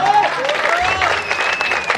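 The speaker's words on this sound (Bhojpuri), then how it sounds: "अच्छा लगा होगा भाई तो ताली तो बनती है ना।" Audience at a Mata jagran stage show in Patna claps in a brief, dense burst of applause, fairly loud and continuous throughout, with a voice carrying over it.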